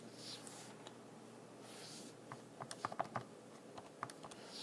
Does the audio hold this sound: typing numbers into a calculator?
yes